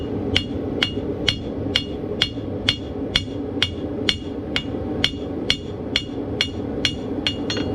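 Steady ringing hammer strikes from the hammer's heel shaping a steel horseshoe clip, about sixteen evenly spaced blows over several seconds, close and clear above a low background rumble.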